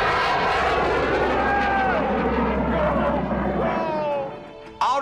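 A civilian amateur space team's rocket roars out of its launch tower in a dense, loud, continuous rush that fades after a few seconds, with excited crowd voices shouting over it.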